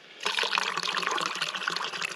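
Water pours into a container at a forest campsite, starting abruptly and continuing as a steady close splashing trickle with no talking.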